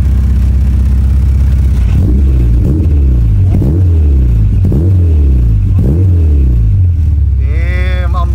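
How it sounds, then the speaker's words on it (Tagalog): Close, loud engine of a car fitted with an aftermarket free-flow muffler, revved in a series of short throttle blips over a steady idle, with a brief higher whine near the end. "Pwede ba mag-rev dito? Rev natin, guys, onti lang."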